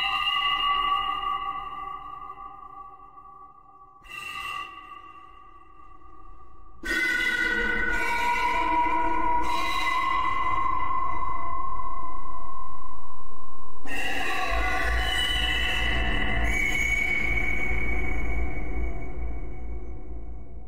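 Tunefish VST synth patch run through formant, chorus, flanger, distortion, delay and reverb effects, sounding as sustained, swirling tones that swell and shift in stacked layers, with several new notes entering and long reverberant tails, no voices.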